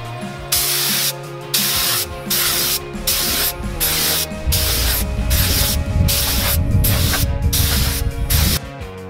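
An aerosol spray can coats car rims over cardboard outdoors with a series of close, sharp hissing bursts. They start as short pulses and run into longer continuous sprays.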